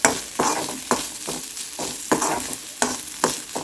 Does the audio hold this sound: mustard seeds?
yes